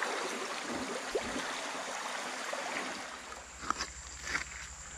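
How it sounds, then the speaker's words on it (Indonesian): A small river runs among fossil stones, its water flowing in a steady soft rush with faint gurgles and a few light splashes, quiet and close. "Ini ada sungai kecilnya."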